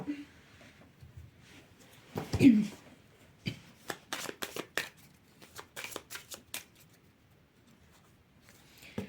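A deck of cards is shuffled for a tarot-style reading, giving a run of soft papery riffles and quick flicks. A person speaks quietly between and over the shuffles.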